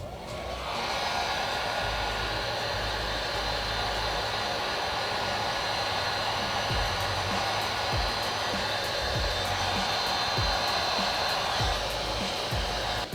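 Heat gun post-heating a vinyl wrap, blowing with a steady, loud whooshing roar that starts abruptly and holds constant for many seconds, close and alone with occasional faint low thumps underneath.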